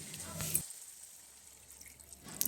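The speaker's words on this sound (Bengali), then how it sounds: "এবার একটু আমি জল দিয়ে দেবো যাতে ফুলভাবে সেদ্ধ হয়ে যায়" Water splashes into a pan of half-cooked potatoes for aloo posto, a short hissing pour at the start that cuts off abruptly, then a quiet simmer with a brief splash near the end.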